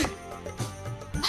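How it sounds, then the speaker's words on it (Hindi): A cartoon character sneezes in a few short, voiced bursts that come close together, each with a sharp vocal onset, heard close and fairly quiet. "आपको भी छींक आ गई?"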